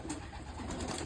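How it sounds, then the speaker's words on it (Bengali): A pigeon coos softly nearby, a short low murmuring call over faint rural background noise. "আমার এই পায়রাটা উঠছেই"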